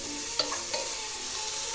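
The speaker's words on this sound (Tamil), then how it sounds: "இந்த டைமில் இஞ்சி பூண்டு பேஸ்ட்டும் போட்டு அதையும் கூட நல்லா வதக்கிக்கலாம்." Onion with ginger garlic paste being sautéed in a pan for a squid roast, a steady soft sizzle with a few light stirring scrapes and clinks, close and alone with no voices.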